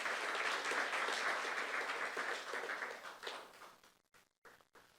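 A youth church congregation claps during a sermon, a steady wash of applause from many hands that thins and breaks off into scattered final claps.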